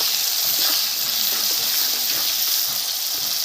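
Onion goes into hot mustard oil tempered with black cumin seeds in a village-style kitchen, giving a loud, steady sizzle and hiss that stays constant with no talking.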